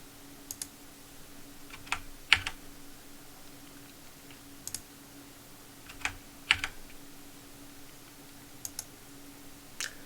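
Scattered sharp keyboard clicks, single presses and quick pairs spread irregularly through a quiet room with a low steady hum beneath, like shortcut keys tapped during a game.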